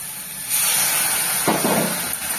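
Poppy-seed soaking water poured into a hot, well-fried spice paste with mushrooms sets off a sudden loud hiss that swells into a sustained spitting sizzle, with a burst of bubbling partway through.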